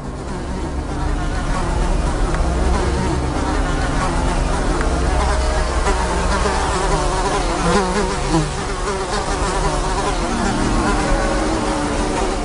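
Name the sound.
insects buzzing near carnivorous pitcher plants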